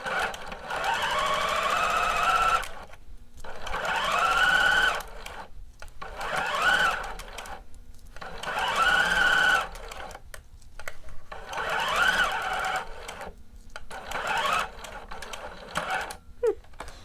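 Sewing machine stitching a bodice side seam from the bottom up to the armhole, running in about six steady bursts of rapid whirring clatter separated by short pauses, close and clear.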